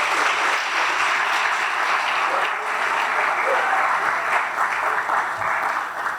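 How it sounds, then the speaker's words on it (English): Applause from a gala crowd at the Taste of the World Awards honoring food vendors, steady dense clapping filling the room for several seconds with a faint crowd murmur beneath. "Let's give a round of applause to all of our amazing food vendors here tonight."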